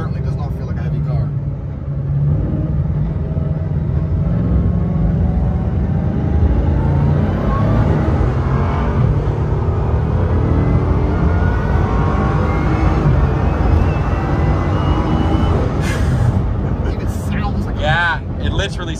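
Car engine roaring loudly and steadily while driving, with a high whining, aircraft-like tone that stays strong throughout; people talk over it.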